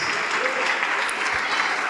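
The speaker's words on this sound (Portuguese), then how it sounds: "vamos aplaudir mais" A church congregation applauds during a worship service, producing a continuous, even roar of many hands clapping that holds steady throughout, with some voices mixed underneath.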